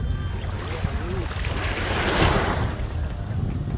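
Sea waves wash in steadily at La Mer beach in Dubai while wind buffets the microphone, a continuous broad rushing surge that swells slightly in the middle, with no voices.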